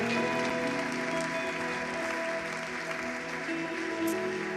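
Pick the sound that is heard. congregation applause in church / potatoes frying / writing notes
congregation applause in church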